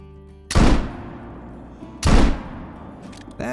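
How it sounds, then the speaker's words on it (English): Two loud, sharp rifle shots from a .470 rifle fired at a caribou in a hunting video game, spaced about a second and a half apart, each booming and then decaying, over quiet game ambience. "go ahead and get a shot into him"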